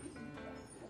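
Pigeons at a home loft coo softly in a low, continuous murmur, fairly quiet, with a faint background hum and no talking.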